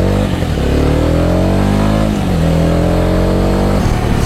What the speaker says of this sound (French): cet échappement d'origine, dommage que vous n'ayez pas le micro juste ici, mais il fait un joli petit bruit sympa